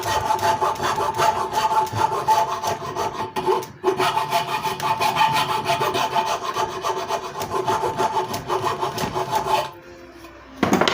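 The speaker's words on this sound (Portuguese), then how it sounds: "Vou fazer com a lima aqui, é mais correto." A hand file rasps rhythmically across wood while a bench vise is being made, with close, steady back-and-forth strokes that pause briefly midway and fade near the end.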